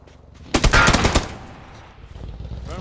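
A quick burst of rapid gunshots in the video game PUBG, loud and close for about half a second, then fading into quieter background game noise.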